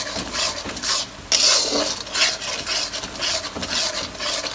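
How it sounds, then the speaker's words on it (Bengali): Masala spice paste is stirred and fried in a pan, a metal spoon scraping and clinking rhythmically against the pan over a soft, steady sizzle, close and alone without talk. "আর মশলাটাকে সুন্দরভাবে কষায় নেওয়া হচ্ছে"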